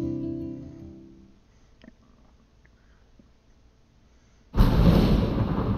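Thunderstorm in the video game Life is Strange: after a low fading rumble and a quiet stretch, a sudden loud crack of thunder bursts in and rolls on as a dense, roaring wash.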